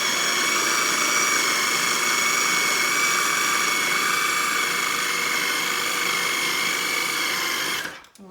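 Food processor blending a homemade falafel mixture, a loud continuous high whirring motor running steadily before cutting off abruptly near the end.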